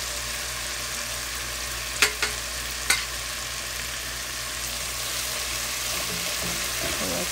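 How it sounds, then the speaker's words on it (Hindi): Masala for kadhi fries softly in a pan with a steady low sizzle, broken by a couple of sharp clinks of a spoon against the pan as it is stirred, close and without talk. "अच्छे से चला देंगे।"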